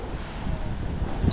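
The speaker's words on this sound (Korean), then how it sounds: "보시면은 저기 파도가 엄청 세요" Strong ocean waves break on a rocky shore on the Okinawa coast in Japan, a continuous loud rush of surf mixed with gusty wind buffeting the microphone, swelling slightly toward the end.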